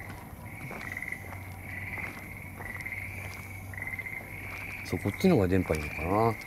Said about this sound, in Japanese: すごいな、カエルの鳴き声。